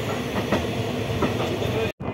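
A superfast train on the Santragachi to Digha line runs with a steady close rumble and rhythmic clickety-clack of wheels over rail joints, ending in a brief cut.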